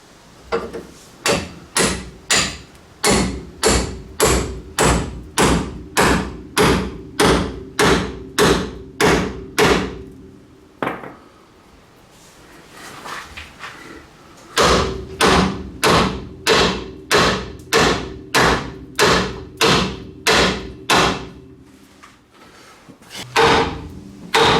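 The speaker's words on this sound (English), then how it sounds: "we're going to have to resort to using a what's called a pickle fork and a big old hammer" Steady, heavy hammer blows drive a pickle fork against the pitman arm on a Dodge Ram 1500, ringing metallic strikes in a fast even rhythm, a short pause midway, then another long run of blows.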